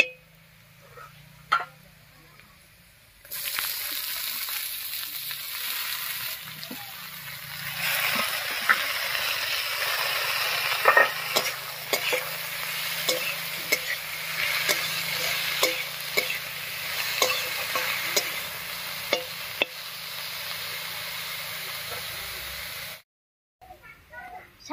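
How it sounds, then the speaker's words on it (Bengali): Radish greens go into a wok of browned onions in mustard oil and fry with a continuous close sizzle, punctuated by repeated scraping and clinking strokes of a stirring spatula until the sound cuts off. "এবার এর মধ্যে শাকটা দেবো।"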